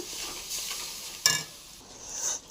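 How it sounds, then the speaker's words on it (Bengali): A spice paste of cumin, garlic and ginger, with turmeric and salt, fries in a pan, giving a soft steady sizzle with stirring scrapes and one sharp utensil clink near the middle. "মশলাটা ভাজবো এখন ভালো করে, কষাবো পুরাসে"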